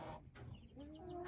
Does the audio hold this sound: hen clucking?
yes